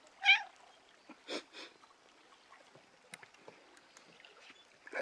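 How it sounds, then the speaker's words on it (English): A large cat gives a short, fairly loud meow, followed by a few quieter chirps and small noises in an otherwise quiet room. "Big old beast of a cat that goes meep."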